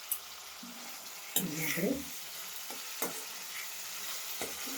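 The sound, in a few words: onions and tomatoes frying in oil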